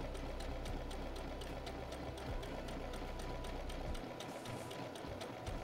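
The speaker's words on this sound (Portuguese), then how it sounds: "Você vai costurando." A sewing machine stitches fabric for a Santa Claus mug cover, its needle running in a steady, close, continuous whir with a faint rapid tick, alone without any voices.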